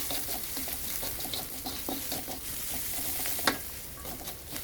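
Onion and green chili frying in a pan for a bitter gourd stir fry, a steady soft sizzle with scattered spatula scrapes and one sharper clink, no voices.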